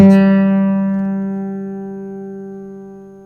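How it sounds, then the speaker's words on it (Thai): A single plucked guitar note rings out loud and clear, decaying slowly over a few seconds with a rich sustained tone from sympathetic strings. "มันจะมีการสั่นของตัวอื่นมาร่วมด้วย"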